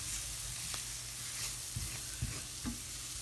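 Tuna noodle sauce with flour being stirred in a pan on the burner, a steady low sizzle under a few soft scraping strokes of the spoon.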